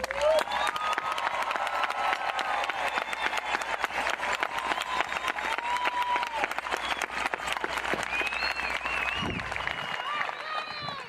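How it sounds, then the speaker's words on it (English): Santa Fe High School graduation crowd applauding and cheering the class of 2021, a thick roar of clapping with whistles and shouts, steady and loud throughout. "Let's give a roaring applause to the Santa Fe High School class of 2021."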